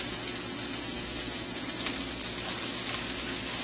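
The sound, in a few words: onions frying in a pan, flour stirred in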